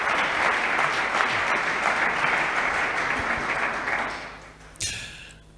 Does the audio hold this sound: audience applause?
yes